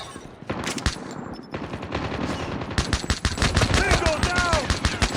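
Rapid pistol shots ring out in the mobile shooter Call of Duty: Mobile, with dense bursts of sharp cracks across the clip and game voices calling out between them.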